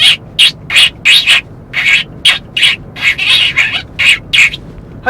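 Recorded birdsong played back through a sound system: a quick run of bright chirps and sharper squawks repeating in short, uneven bursts, loud and close with no voices over it.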